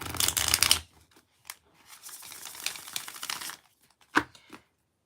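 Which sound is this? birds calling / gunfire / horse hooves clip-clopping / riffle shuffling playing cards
riffle shuffling playing cards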